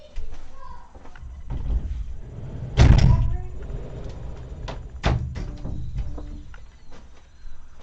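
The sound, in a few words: doors being closed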